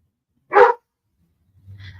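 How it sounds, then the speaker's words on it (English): Dogs barking from another room inside a home, a single muffled bark followed by faint low rumbling noise. "So if you hear the dogs, sorry."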